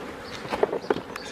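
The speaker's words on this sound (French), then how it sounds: "toutes les butineuses rentrent" Forager honeybees returning to the hive, a short burst of close buzzing that swells and fades over a low background.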